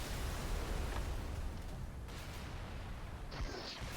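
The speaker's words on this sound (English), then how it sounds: "if the first explosion doesn't flip the elephant, you have an instant chance to do a second explosion, like so" In Halo 3, explosions hit the Elephant vehicle and flip it: a loud, rumbling boom sits under continuous noise, with a second sharper burst near the end.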